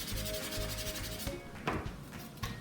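Steady abrasive rubbing of sandpaper on wood, continuous and close, with a few slightly sharper scrapes toward the end.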